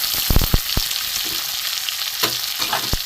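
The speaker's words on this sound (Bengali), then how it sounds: "দিয়ে আমি এটাকে ভালো করে ভেজে নেব" Chopped onions fry with spices in a pan for a spicy bombay duck fish dish: a loud, close crackling sizzle runs for a few seconds, punctuated by several sharp stirring scrapes.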